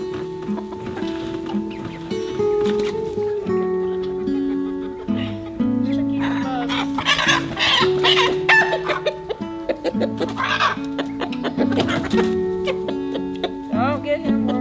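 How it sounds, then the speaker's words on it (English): Roosters and a young cockerel crowing and clucking in a loud, busy chorus, overlapping calls layered throughout with no pauses, close by around a chicken tractor. "he started making a racket and got the roosters all worked up"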